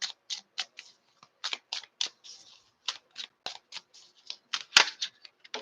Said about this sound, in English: We're shuffling those back in.